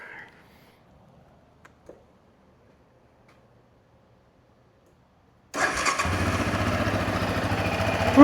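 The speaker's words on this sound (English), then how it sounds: "we're gonna fire this four-wheeler up, and we're gonna let it run for a minute or two to get the oil a little bit warm" A 2019 Yamaha Raptor 700R four-wheeler, started after sitting for almost four years, is quiet apart from a few faint clicks before the engine catches abruptly and settles into a loud, steady close-up idle.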